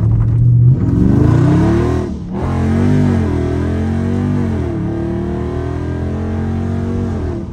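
Dodge Charger Scat Pack V8 engine revving hard in a rough-road drift, a loud deep rumble that climbs and falls in pitch through several rev swells, with a brief dip near the middle, heard alone without talk.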